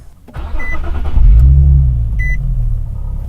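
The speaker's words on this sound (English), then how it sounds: "I'm going to start the car." A car engine cranks and catches, then settles into a steady low idle rumble, loud and close, with a couple of faint electronic beeps over it and no talk.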